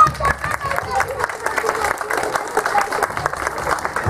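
Sustained audience applause at a school student festival, dense steady clapping from a crowd that fills the whole stretch with a few voices mixed in.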